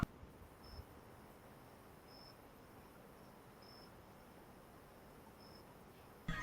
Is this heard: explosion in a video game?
no